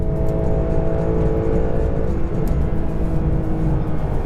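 A Porsche 911 GT3 engine winds up toward 9,000 RPM from inside the car, a loud, continuous engine drone with strong low rumble and sustained harmonic whine, with no speech over it.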